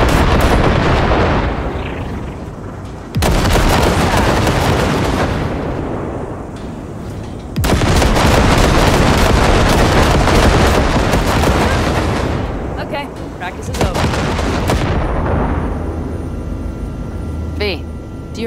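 Heavy gunfire blasts shipwrecks in Cyberpunk 2077, a loud roaring barrage in long sustained bursts broken by brief pauses, with voices faintly underneath.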